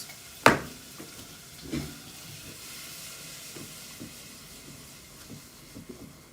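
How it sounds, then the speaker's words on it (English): Vegetables sizzle in hot oil with a steady hiss, broken by a sharp clatter and a few scattered pops. "So this is just peppers and onions right now. In oil, frying."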